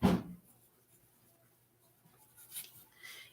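A pen scratches across paper for a new-year intention note, a brief rub at the start and faint, intermittent scratching strokes later, quiet and close with no talking.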